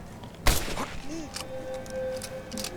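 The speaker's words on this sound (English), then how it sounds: "That's a silencer on the end of this rifle." A single suppressed bolt-action rifle shot in a video game, a sharp muffled crack standing out once against faint background game ambience.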